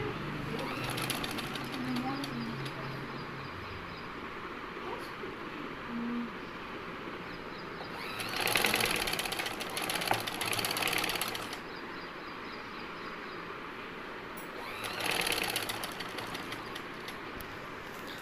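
A sewing machine runs in quiet bursts, stitching the belt of a shalwar, with a soft continuous whir that swells louder twice and a faint background murmur.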